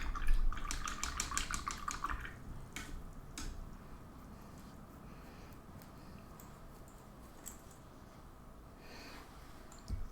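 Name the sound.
rinsing a paintbrush in water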